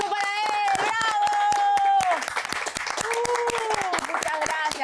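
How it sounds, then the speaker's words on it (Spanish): Studio audience on a talk show applauding a guest, a dense patter of individual claps running throughout beneath a host's loud talking. "¡Un fuerte aplauso para él!"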